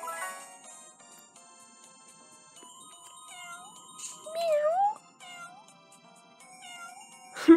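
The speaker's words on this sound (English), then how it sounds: "Oh my god, there's so many cats!" Several cats meow in a video game, with cartoonish mews rising and falling over a tinkling musical background, growing louder and more overlapping midway before a final sharp sound at the end.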